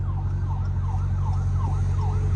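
A paramedics ambulance siren wails in a steady repeating rise-and-fall over the loud low rumble of an SRT Hellcat engine idling nearby.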